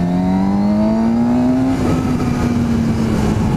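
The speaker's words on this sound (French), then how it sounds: "avec le pot d'origine, je sais pas si vous entendez, elle fait déjà un petit bruit quand on monte dans les tours" A Suzuki GSX-S 750 with its stock exhaust revs up close, the engine note climbing steadily in pitch, then holding and settling into a loud, smooth drone.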